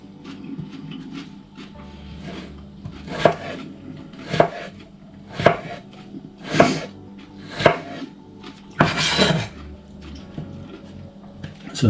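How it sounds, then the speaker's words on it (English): A knife chops cucumber into roughly centimeter slices on a board, about nine crisp, distinct thuds at an unhurried, slightly irregular pace, close with faint background hum. "chop the cucumber into around centimeter slices, as far as you can go, to be honest"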